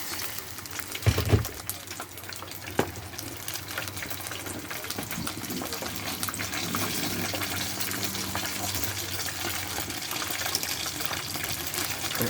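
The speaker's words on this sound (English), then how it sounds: "add some water to that." Water added to a frying pan of sizzling sweet and sour turkey balls, a short burst of pouring near the start followed by steady hiss and bubbling throughout, close and moderately loud with no talk.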